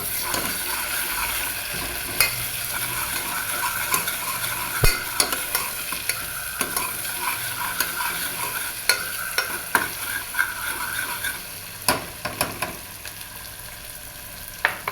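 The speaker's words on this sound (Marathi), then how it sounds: "अर्धा चम्मच जिरे आणि थोडंसं हळद. त्याला छान परतून घेऊया." Cumin seeds and turmeric sauté in hot oil in a pan, giving a steady close sizzle, while a spoon repeatedly stirs and scrapes with sharp intermittent clicks over about fifteen seconds.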